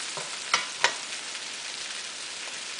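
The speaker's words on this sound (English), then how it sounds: "It's nicely frying." Catfish pieces fry in curry paste inside a pot, giving a steady soft sizzle with a couple of sharp stirring clacks near the start and no talk.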